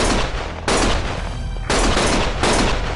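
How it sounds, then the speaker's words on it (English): Heavy gunfire from the video game Lost Judgment: loud, dense bursts of rapid shots that come in several surging waves over a few seconds, with no talking. "Stop shooting!"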